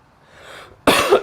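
A single dry cough bursts out loudly close by after a faint breathy lead-in, with a short second hack at the end.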